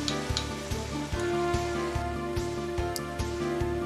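Tomato and green chili paste sizzles steadily while sautéed in a pan for jackfruit curry with shrimps, a continuous fry under regular rhythmic thumps and scrapes of stirring.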